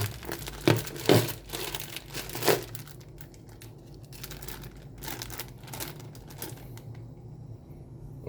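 A plastic bag filled with hot water is squeezed and crumpled by hand, giving close crinkling bursts that are loud at first and then softer and sparse.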